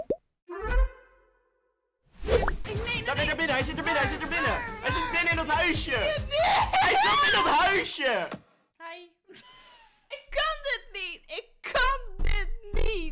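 A woman shrieks and wails loudly at close range, with long, high, wavering screams broken by short pauses, in a video.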